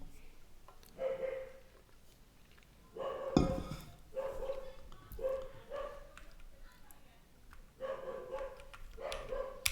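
A dog barks in several short bursts at a middle distance outdoors, with the barks spaced irregularly and some faint background noise between them.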